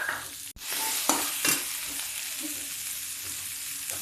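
Mint, ginger, coriander and turmeric chutney for vrat potatoes hits a hot pan with a sharp sizzle, followed by continuous frying hiss and occasional stirring scrapes.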